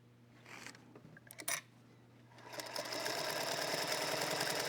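A sewing machine stitches a quarter-inch binding seam on a quilt, a steady, close, fast mechanical whir starting after a few handling clicks and taps.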